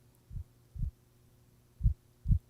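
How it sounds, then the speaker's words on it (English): Heartbeat sound playing from a video, four distinct low thumps in two pairs, clear and alone against a faint hum. "Hear that heartbeat?"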